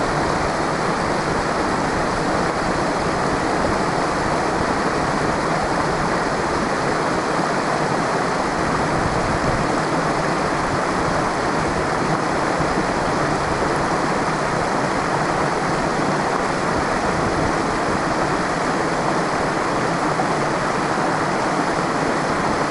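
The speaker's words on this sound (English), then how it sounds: "And this is a quiet river" A quiet river flows in a recording played back, a steady broadband rushing of water that stays constant and fairly loud with no breaks or voices.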